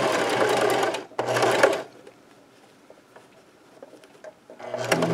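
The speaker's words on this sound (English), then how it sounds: "I want to do some little back stitching" A sewing machine back stitches a scrub cap in two loud bursts of about a second each, then stops for a quiet pause with faint handling, and a third run starts near the end.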